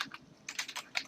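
Short burst of typing on a computer keyboard, a few soft, quick key clicks close by with no voices.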